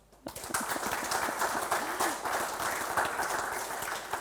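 Applause at a security awards ceremony, a modest group clapping in uneven bursts close by, with some talk mixed in.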